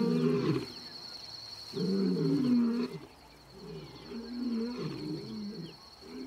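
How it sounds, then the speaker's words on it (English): Bachelor male lions give challenging roars in a wild Nakuru setting, with three deep, rumbling roar bouts rising and falling in steady succession over a faint background of birds. "Bachelors' challenging roars stop the pride males in their tracks."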